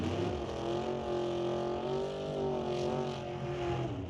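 Drag racing cars begin burnouts at a door-car event, with a steady loud engine roar and tire noise sustained throughout, close and continuous.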